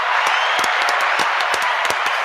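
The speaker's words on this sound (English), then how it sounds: "I want to give you a round of applause" An audience at a live show applauding, a dense, steady wash of clapping with a few sharper individual claps standing out over the short span.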